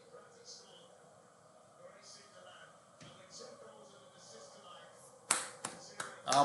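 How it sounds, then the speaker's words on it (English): One person watching the UEFA Champions League final claps their hands: a quiet stretch of faint background murmur, then about four sharp, close, loud claps in quick succession near the end. "I'm clapping because Charlie,"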